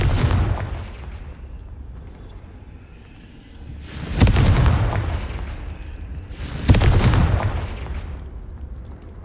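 Booming fire-spell blasts from Hogwarts Legacy, a fantasy video game: two loud, broad explosive bursts a few seconds apart, each decaying into rumble over a low, steady background.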